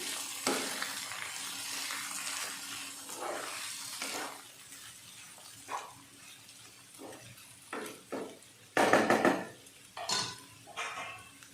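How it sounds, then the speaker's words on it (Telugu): Cut tindora (ivy gourd) pieces are stirred in a frying pan, with a soft sizzle beneath a series of scraping spoon strokes and clattering knocks against the pan, coming in irregular bursts. "కట్ చేసుకున్న దొండకాయ పీసెస్ని వేసుకున్నాం. సో మిక్స్ చేసుకున్నాం."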